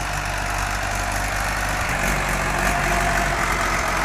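A Mahindra 475 DI tractor engine idles steadily on a road, a continuous loud low rumble with an even drone and no change in pitch throughout.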